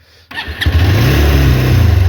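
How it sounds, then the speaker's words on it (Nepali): A motorcycle engine cranks and catches after a moment of near silence, then settles into a loud, steady, close idle with a low throbbing pulse. "हाम्रो बाइक चाहिँ स्टार्ट भइसकेको छ होइन"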